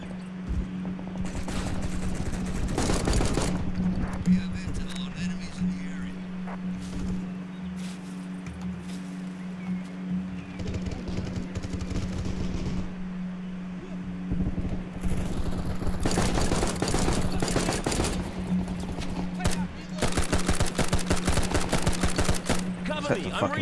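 Semi-automatic rifle fire in a video game, an L1A1, crackling in repeated bursts of sharp shots over a steady low hum, heaviest near the start and again in the second half, with talk mixed in.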